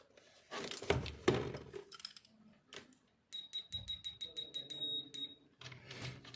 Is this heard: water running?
no